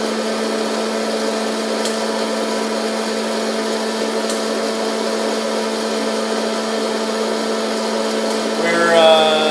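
A coffee roaster roasting beans runs with a steady, loud mechanical whir and a constant hum, unchanging for several seconds before a brief rise in noise at the end.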